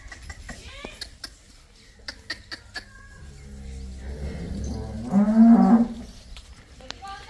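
A cow on a dairy farm lets out a low, drawn-out moo toward the end, preceded by clicking and tapping noises nearby.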